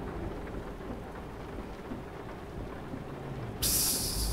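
A thunderstorm with steady rain rolls on in Euro Truck Simulator 2, a dense hiss of rainfall under low rumbling thunder. A sharp, bright crackle of a close strike bursts in near the end.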